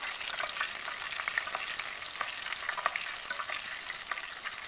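Griwech pastry dough frying in hot oil makes a continuous close bubbling sizzle with scattered crackles, steady and even throughout, with no voices.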